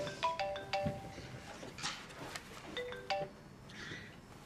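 A phone ringtone plays a bright repeating chime melody in two short phrases, fairly faint and alone in a quiet room.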